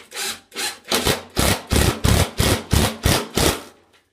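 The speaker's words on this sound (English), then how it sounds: "And then put the screws that I took out back into the wall anchor." A screw grinds into a plastic wall anchor, giving about nine rhythmic rasping turns close up, each a rough scraping burst with brief pauses between.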